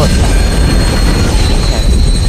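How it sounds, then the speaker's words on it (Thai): Train rumbling down in the horror video game Dead Space 2, a loud, steady low roar of rolling rail cars with a faint metallic hiss, continuous throughout with no talk. "รถไฟลงมา"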